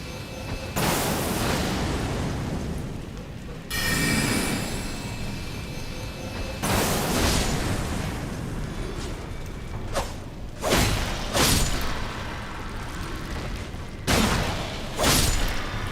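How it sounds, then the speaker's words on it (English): Cannon fire in the video game Elden Ring: a run of loud booming blasts with sweeping whooshes, several heavy shots spaced a few seconds apart, then a rapid cluster of bursts near the end. "Wake up, everyone! It's time for cannon!"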